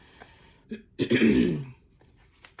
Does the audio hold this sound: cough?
yes